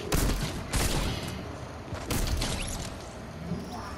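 Gunfire from a video game during a headshot: a few loud, sharp bursts of shots, each with a short decaying tail, spaced across a few seconds over a steady background.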